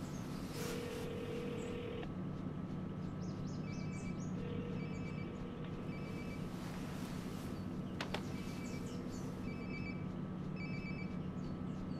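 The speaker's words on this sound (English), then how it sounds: "Sounds like my phone is definitely nearby." A telephone rings in the video game Life Is Strange: Before the Storm, with repeated electronic ring bursts sounding over a steady bed of in-game ambience and music. No one speaks.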